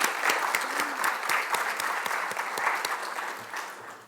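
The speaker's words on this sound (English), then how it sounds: "Let's give them a round of applause" A luncheon audience gives a round of applause for city board members, steady dense clapping with a few sharper individual claps standing out, fairly close, slowly fading toward the end with no talk over it.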